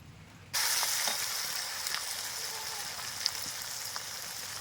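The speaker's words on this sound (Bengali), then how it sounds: "কড়াইটা আমার গরম হয়ে গেছে, কড়াইতে দিয়ে দিচ্ছি তেল।" Oil poured into a hot kadai (wok) breaks into a sudden loud sizzle that starts abruptly and then holds as a steady, bright frying hiss with a few small pops, close and alone.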